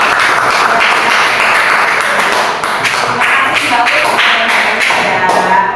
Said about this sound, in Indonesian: boleh tepuk tangan buat Bapak ya